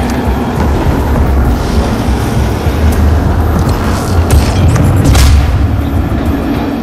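A grenade blast in the DOOM demo game rolls out as a loud, sustained low rumble with a swelling boom near the end, dense and continuous with no speech.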